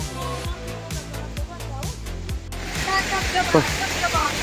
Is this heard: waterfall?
yes